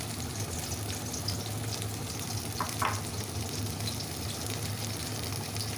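Onion and green chili frying in a pan, a steady low sizzle and crackle with a brief scrape of stirring partway through, fairly quiet and close, no voices.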